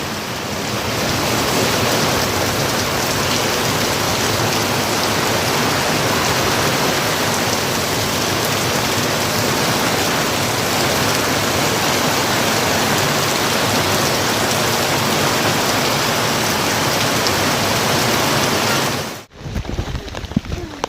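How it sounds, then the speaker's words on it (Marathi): Heavy rain pours steadily in a village, a loud, dense, continuous hiss and patter that holds for about nineteen seconds before cutting off abruptly, followed by a brief quieter tail. "सगळ्या आलो द्यावा नव्हता अजिबात जोरात आला आता पाऊस"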